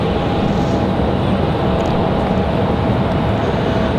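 A Pilatus PC-12 turboprop at Raleigh-Durham International Airport gives a loud, steady broadband engine roar with a faint whine, close and continuous for the whole few seconds, with no voices.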